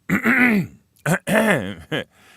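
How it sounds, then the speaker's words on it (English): A man clears his throat in a few forceful, close, voiced rasps separated by short pauses, heard alone with no other sound. "Just let me clear my throat."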